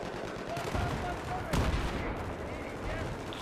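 Automatic weapon fire in the shooter game Battlefield 3, with rapid bursts of shots rattling over dense background battle noise throughout, a louder crack partway through, and a voice faintly present in the mix.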